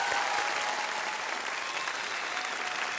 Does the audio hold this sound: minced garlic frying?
no